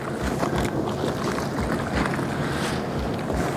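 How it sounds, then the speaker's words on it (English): A wash mitt gets rinsed in a bucket of water while a truck is detailed: sloshing, splashing water in quick repeated dunks, close by, over a faint hiss of wind with no voices. "Gonna rinse our mitt back out again."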